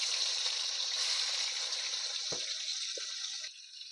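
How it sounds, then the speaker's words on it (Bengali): Rui fish pieces sizzling steadily in hot oil in a pan, a loud continuous frying hiss that softens slightly near the end, with a brief clink partway through. "অল্প অল্প করে মাছটাকে তেলে দিয়ে লাল লাল করে ভেজে নেব।"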